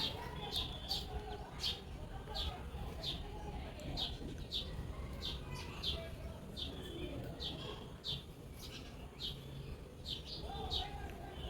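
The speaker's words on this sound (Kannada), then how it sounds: "ಇವಾಗ ನೋಡಿ ಗುಬ್ಬಚ್ಚಿಗಳೆಲ್ಲ ಬಂದು ಇಲ್ಲಿ ಮೇಯ್ತಾ ಇದ್ದಾವೆ" Rapid high chirps from small birds repeat in short bursts over a low, steady background rumble, fairly close.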